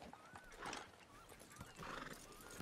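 A horse in the video game Red Dead Redemption 2 whinnies twice, with high, wavering neighs rising over a soft background of hooves and game ambience.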